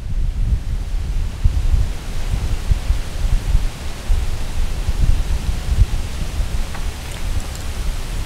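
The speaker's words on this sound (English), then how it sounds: "the wind is blowing" Wind blowing outdoors, a loud, steady broadband rush with gusty low rumble against the microphone, continuous throughout with no voices.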